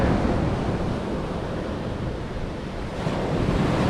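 Arctic Ocean waves roll in as a continuous, loud roar of surf, with wind buffeting the microphone up close and no voices.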